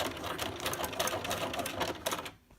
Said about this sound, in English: I'm going to sew all the way down until I make it to that pin